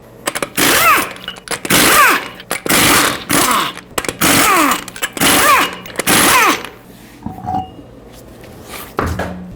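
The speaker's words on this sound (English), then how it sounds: "use a 21mm socket, remove all 6 lug nuts, and then remove the wheel." Impact wrench with a 21mm socket removing the lug nuts from the front wheel of a 2015-2020 Ford F-150 in loud, close bursts, each with rising and falling motor pitch, repeated about six times with short pauses between.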